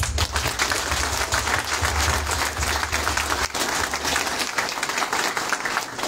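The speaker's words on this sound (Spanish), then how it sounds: "Y pido un aplauso para ustedes." Audience applause at a Morena political meeting in San Miguel de Allende, a dense, loud, sustained roar of many hands clapping from a crowd, steady throughout without letting up.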